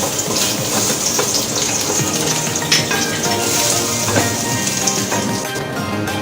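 Garlic frying in hot cooking oil gives a loud, steady, close-up sizzle with crackling pops and no pause, and no talk over it.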